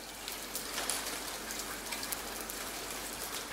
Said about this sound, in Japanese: 雨半端ないよね。